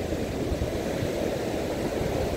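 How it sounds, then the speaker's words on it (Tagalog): Large ocean waves breaking along a shore, a steady, loud low rumble and wash of surf with no distinct individual crashes, heard alone without voices. "Ito po, lalaki ng alon"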